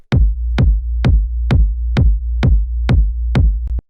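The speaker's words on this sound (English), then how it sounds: "After that, we have the kick, which sounds like this." A punchy techno kick drum thumps eight times in a steady, even beat, deep and loud, with no other sounds.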